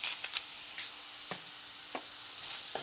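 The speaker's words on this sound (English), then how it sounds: "And then just continue to saute until you get it to the temperature that you want." Seasoned steak sizzles steadily in a pan, a quiet continuous hiss broken by a few soft clicks and scrapes of a utensil stirring.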